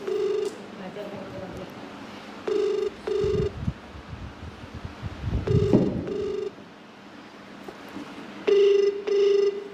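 A telephone rings in short paired bursts, repeating a few times across the clip at moderate loudness, with people talking and background noise in between.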